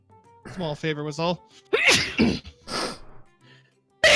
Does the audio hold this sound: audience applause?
no